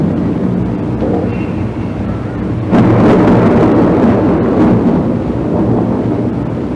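A steady, loud thunder rumble under rain, swelling into a heavier crack and roll partway through, then continuing to grumble without a break.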